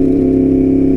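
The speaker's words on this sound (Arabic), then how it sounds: "الصوت ديال الاروان مختلف على كاع المواد" A Yamaha R1 circuit motorcycle engine, tuned with a spark plug and filter upgrade, holds a loud, steady high-pitched drone close up, buzzing evenly without a break.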